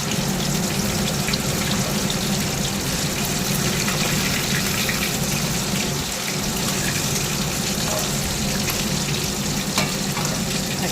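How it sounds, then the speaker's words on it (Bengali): Fish sizzles in hot oil in a pan in a home kitchen, a dense, continuous crackling hiss at close range that stays steady and fairly loud with no talking. "এখন চলছে মাছ ভাজা।"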